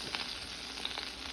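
Broccoli and cauliflower fry in a hot pan with a soft continuous sizzle, broken by a few light hissing bursts as the pieces settle in.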